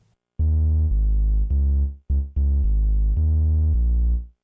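A deep, sustained synth bass from a Prophet Rev 2 plays a short repeating two-bar loop of held notes with brief gaps, loud and alone.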